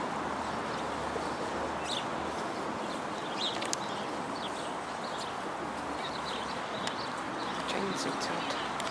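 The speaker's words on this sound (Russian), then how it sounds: "птицы поют" Small birds sing along the Volga embankment near a five-storey apartment block and a road, with faint, scattered chirps over steady traffic rumble while voices murmur in the background.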